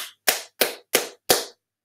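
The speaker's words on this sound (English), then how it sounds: "So we're going to come over here to clap." Four sharp hand claps at an even, deliberate pace, close and fairly loud in a quiet room, with silence between each.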